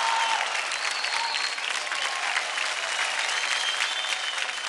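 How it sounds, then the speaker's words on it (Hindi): A studio audience at a televised dance competition breaks into sustained applause, dense even clapping lasting several seconds without speech. "एक बार फिर से जोरदार तालियां हो जाए"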